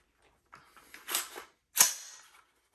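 Metallic clicks and clacks of a Ruger AR-15 rifle being cleared: a few light clicks, then two sharper, louder snaps of the action being worked, close and with no talk over them.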